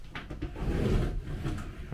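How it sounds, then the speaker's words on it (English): Sliding shower door in the bathroom of a 2010 Willerby Granada static caravan rolls along its track with a low rumbling slide, heard close up and alone. "Sliding shower door."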